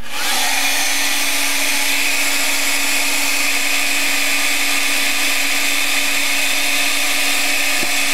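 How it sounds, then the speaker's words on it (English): A heat gun blows with a steady, loud whooshing roar that runs unbroken from start to finish, close by, with no talking over it. "heat gun."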